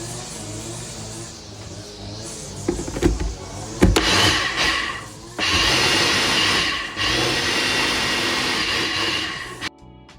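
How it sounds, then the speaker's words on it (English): A blender whirs loudly as soursop juice is blended with creamy malt, vanilla and nutmeg, starting after a few clunks and rattles, surging in pitch as it runs, then cutting off abruptly. "and blend again"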